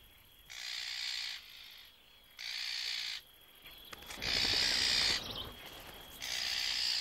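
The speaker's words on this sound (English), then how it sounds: "Their mobbing tactics and raucous calls have little effect on the Genet." Magpies mob a genet near their nest with harsh, rattling chatter calls that come in loud, sustained bursts separated by short pauses, with no other sounds around them.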